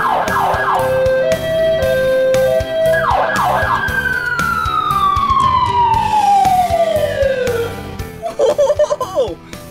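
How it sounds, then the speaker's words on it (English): Close and loud, a fire truck siren cycles through rapid warbling bursts, then a long falling wail, then a choppy stuttering tail, with a voice briefly heard alongside. "Check this out down here. The siren."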